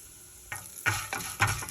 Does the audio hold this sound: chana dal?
yes